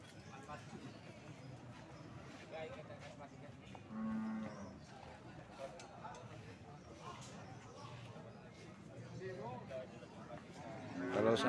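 Cattle moo now and then amid steady livestock-market commotion, with people talking throughout; a louder, closer lowing call stands out briefly near the middle and again at the end.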